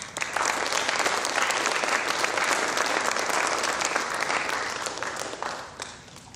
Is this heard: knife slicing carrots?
no